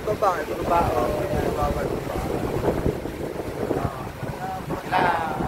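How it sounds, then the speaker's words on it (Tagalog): Gusty typhoon-aftermath wind buffets the microphone with low rumbling roars while people talk over it, and the voices rise and fall against the blustery noise. "sobrang lakas ng hangin"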